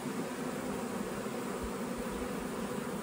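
Honeybees flying in front of their hive after snow has melted, a steady dense buzzing hum filling the whole stretch, soft and even, with no talking.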